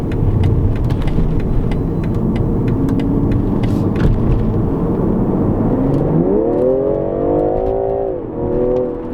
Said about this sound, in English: And acceleration with 380 horsepower. This thing just takes right off.